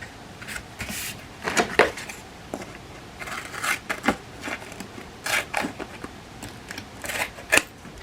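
Scissors snip through clear acetate card during stamping and embossing crafting, a series of short, crisp, close cuts in irregular bursts with brief pauses between them.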